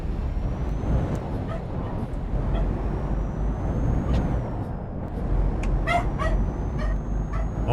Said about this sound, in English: Oh my god, he's barking.